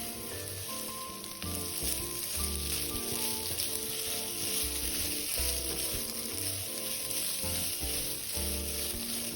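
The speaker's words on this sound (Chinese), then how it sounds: "將瀝後的糯米全部倒入，繼續炒香，炒至米粒變得半透明，表面發亮，顆顆鬆散" Drained glutinous rice stir-fried in a hot wok gives a loud, steady sizzle and crackle with stirring scrapes throughout, no voices.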